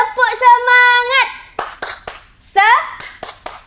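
An Indonesian class led by a teacher performs the rhythmic 'tepuk semangat' cheer, with a few sharp claps set between sung and chanted voices, loud and close over a short burst.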